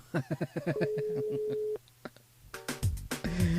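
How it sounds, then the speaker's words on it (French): A steady telephone call tone sounds for about a second as a French-language radio morning show rings a listener, following quick speech from the host and leading into more talk and music. "Et si on appelait Angela ce matin?"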